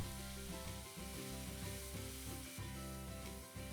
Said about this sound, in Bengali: কড়াইটা গরম হলে দিয়ে দেব পরিমাণ মতো তেল, দিয়ে দেব গোটা জিরে, 1 চামচ কাঁচা লঙ্কা বাটা, টমেটো পেস্ট। এটাকে ভালো করে কষিয়ে নেব।